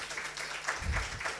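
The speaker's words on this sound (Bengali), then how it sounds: "একটা বড় হাততালি ওদের জন্য।" An audience at a Rabindra Jayanti cultural programme gives the organisers a short round of applause, faint and somewhat distant, with scattered clapping rising briefly in the middle.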